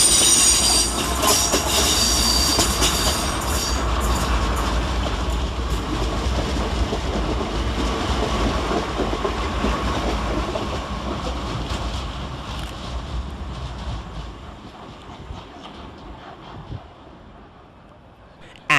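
An electric multiple unit train pulls away from London Waterloo East station with a steady rumble and metallic wheel squeal, clattering over rails and gradually fading into the distance.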